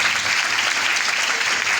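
Loud, dense applause from a gathered audience, steady and continuous throughout without any talk.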